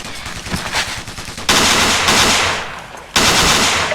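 Sustained automatic gunfire from a squad suppressing an enemy in the Ghost Recon video game, loud and dense with rapid bursts that break off briefly and then resume in full.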